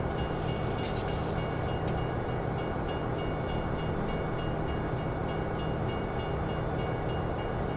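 A freight train loaded with potatoes rolls along in Farming Simulator 17, its wheels giving a loud, regular clickety-clack over a steady rumble, with a brief horn-like tone near the start.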